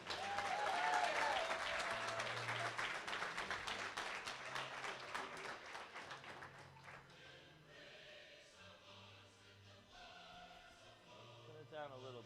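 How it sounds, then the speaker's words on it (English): A bench press championship crowd claps loudly for a medal winner, the applause strong at first and then thinning out into scattered claps, with background voices underneath. "Big round of applause"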